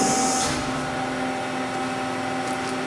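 A Lauffer RMT 100 hi-speed straight-side hydraulic press runs at 80 tons, giving a steady loud mechanical hum with a constant tonal whine and airy hiss throughout, a brief extra hiss at the start.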